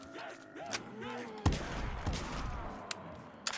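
An Olympia shotgun fires in a Call of Duty Black Ops 3 custom zombies map, several sharp, loud blasts a second or so apart amid busy game noise, with a voice briefly mixed in.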